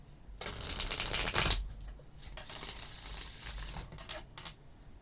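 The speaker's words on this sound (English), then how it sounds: "So let's go ahead and shuffle these cards one more time." Tarot cards shuffled by hand, with crisp riffling bursts and shorter flutters in quick succession, close and clear with no talking.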